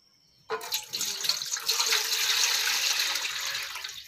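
Water from a tap runs steadily into a cooking pot for spaghetti noodles, a bright continuous splashing rush that starts abruptly after a short silence and holds near and loud to the end.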